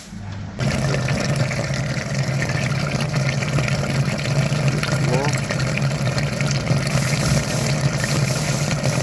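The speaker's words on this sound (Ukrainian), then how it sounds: "Миємо по черзі, наразі лівий теплообмінник" A pump pushes flushing liquid through the left heat exchanger, mounted low behind the battery, of a Kia Niro EV / Hyundai Kona EV being cleaned of crystallised antifreeze. A steady, loud watery hum starts abruptly and runs continuously throughout.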